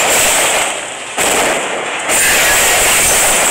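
A turret being destroyed in a video game, a loud sustained roaring explosion with crackling texture that dips briefly and then swells again, filling the whole moment.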